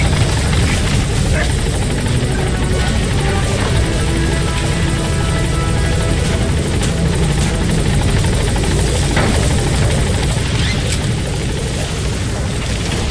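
A B-Quad support helicopter in Metal Gear Solid V hovers loudly at a landing zone, its rotor roar and buzz constant and close throughout, with radio talk heard over it.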